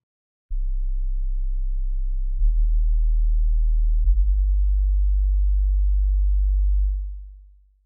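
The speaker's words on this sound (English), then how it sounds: "Here's what that sine wave sounds like." Pure sub-bass sine wave synth patch in MainStage, playing a few sustained very deep, smooth notes that step lower one after another, with no other sound, before fading out at the end.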